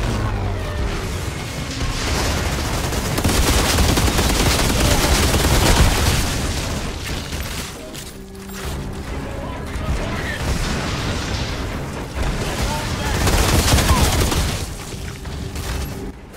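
Incendiary-round gunfire and booming blasts fill a loud Outriders battle, dense volleys and impacts churning continuously with brief lulls near eight and twelve seconds.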